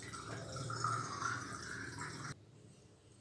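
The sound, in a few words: tamarind extract being poured into pot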